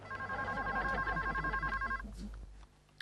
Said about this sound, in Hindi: मुझे जरूरी फोन करना है।